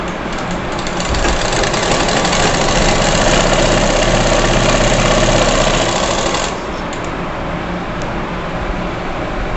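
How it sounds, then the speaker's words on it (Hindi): A sewing machine stitches over stretched elastic on fabric, running loud and close in a steady mechanical whir for about six seconds before the motor stops and only a quieter hum remains. "इस रबड़ को ऐसे हम खींचेंगे और इस पर ऊपर से हम ऐसे सिलाई लगाते जाएंगे इस तरीके से"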